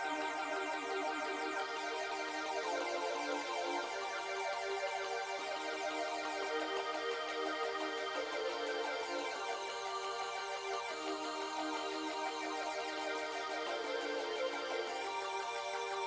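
A drum and bass synth part runs steadily with a phaser effect swept by hand rather than by an LFO, giving a continuous, dense, shifting tone with slow sweeping changes throughout, loud and with no talking.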